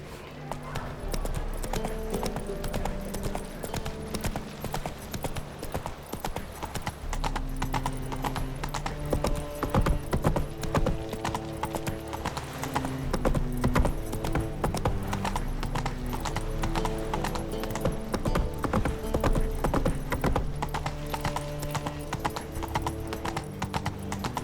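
Roach the horse gallops in The Witcher 3, hooves clip-clopping in a quick, continuous rhythm for the whole stretch, mixed with a steady musical score.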